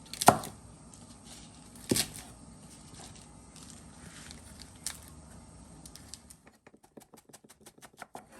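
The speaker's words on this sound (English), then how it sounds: "what I like to do is just put everything on top of each other and just chop them" Knife chopping stacked herb leaves pulled from their stems on a cutting board, a few sharp loud chops early then a quick run of lighter, faster taps near the end, no talking.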